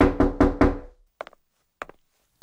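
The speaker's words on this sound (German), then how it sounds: "Oh, wer klopft denn da an die Tür?" Knocking on a door in an audio drama: four firm, resonant knocks in quick succession, followed by quieter, scattered knocks and thuds with silence in between.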